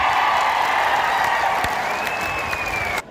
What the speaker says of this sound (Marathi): देवेंद्र फडणवीस साहेब यांच आपण सगळ्यांनी उभा राहून टाळ्या वाजवून अहिल्यानगर केल्याबद्दल अभिनंदन करावं